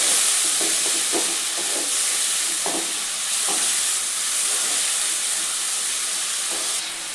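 Potatoes frying with masala in a pan for an Odia fish and potato curry, a continuous hissing sizzle with a few soft stirring knocks, close and fairly loud, no talking.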